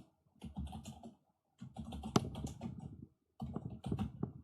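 Computer keyboard typing in three bursts of rapid, close clicking, separated by short pauses, with one sharper key strike standing out in the middle burst; no talking.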